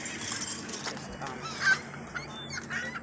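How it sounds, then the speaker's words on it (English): Seagulls call out nearby in a raucous, honking chorus, overlapping cries rising and falling over a few seconds against steady outdoor background noise. "Seagulls are going everywhere."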